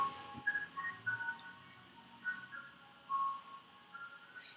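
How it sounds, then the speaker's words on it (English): An ice cream truck passes, playing its tinkling jingle of short melodic notes that rise and fall, faint and distant against a quiet background. "ice cream truck"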